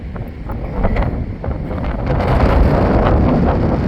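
Wind buffets the microphone in a steady low rumble at a riverside boat launch, swelling louder toward the end, with no voices.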